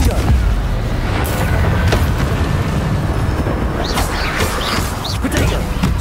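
Spell explosions in Hogwarts Legacy form a continuous loud barrage of booming blasts and crackling impacts, with a voice calling out over the din.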